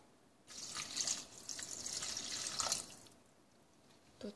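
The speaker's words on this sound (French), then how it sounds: "On va mettre l'eau." Water runs into a pot for Kraft Dinner-style mac and cheese, a steady splashing stream for about two and a half seconds, close and fairly loud, then tapering off to quiet.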